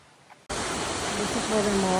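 Broadband rushing water rises abruptly and stays loud and steady, the constant roar of a river with many waterfalls heard up close while walking the Camino, with a voice speaking over it partway through.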